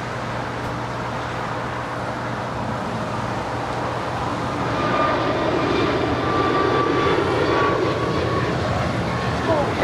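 An Air Canada Boeing 737 MAX 8 departs Los Angeles International Airport toward Calgary, its steady jet roar building and broadening over about ten seconds against background airport traffic noise.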